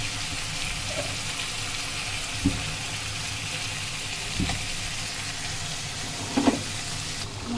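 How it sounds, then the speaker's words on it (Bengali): Sliced potatoes frying in a pan for Bengali aloo bhaji, giving a steady close sizzle with a few soft clinks of stirring, and no one talking. "আর এই পাশে আমার আলু ভাজিটা হচ্ছে।"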